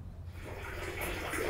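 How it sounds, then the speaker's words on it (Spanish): Rainwater runs from a roof down through pipes into a cistern, giving a steady, moderately quiet rush of flowing water that holds level from start to finish. "Cae el agua por acá."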